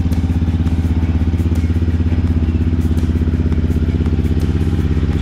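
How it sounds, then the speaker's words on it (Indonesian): A new Yamaha WR155R motorcycle engine with a stock ECU idles close by, a smooth, steady, rapid thumping pulse with light mechanical clatter throughout. "Suara-suara mesin baru masih halus nih."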